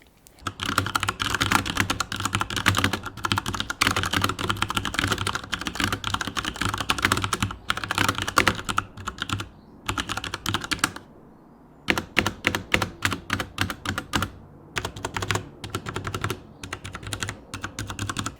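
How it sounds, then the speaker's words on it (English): Rapid, steady typing on a Cooler Master MK750 mechanical keyboard, dense clacking keystrokes in continuous bursts with a couple of brief pauses, close and clear with no voices. "how it actually feels to use the MK750"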